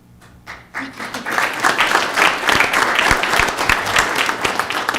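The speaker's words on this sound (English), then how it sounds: "Everybody except for Paseo Point should be clapping right now." Applause rises from a school district governing board meeting audience celebrating a softball championship: after a brief quiet start, many hands burst into clapping and hold a loud, even roar of sharp overlapping claps to the end.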